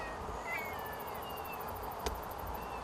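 A cat's meow played back as a recording near a mother animal and her young in an urban stream park, faint and brief over steady outdoor background noise with a short sharp click partway through.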